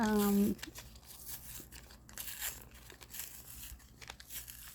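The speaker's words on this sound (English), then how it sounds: "So you can just start peeling your tags" Paper or clothing tags being peeled apart for a junk journal give a brief crinkly tearing and rustle, with a person talking over the handling.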